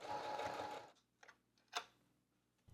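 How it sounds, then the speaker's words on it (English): A sewing machine stitching a fabric banner pocket runs steadily for about a second, then stops, leaving a few soft clicks and taps in near silence. "I'm going to sew this area."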